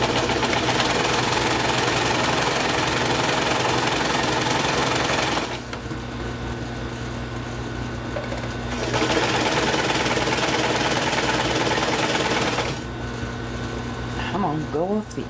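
A sewing machine runs a quick running basting stitch on petticoat fabric, its steady mechanical whir in long bursts with a pause between runs, while a person talks over it.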